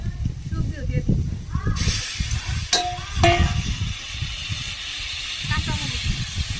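Vegetables hit a hot pan that already holds cumin and chopped onion, setting off a sudden, loud, steady hiss and sizzle that keeps going under a speaking voice.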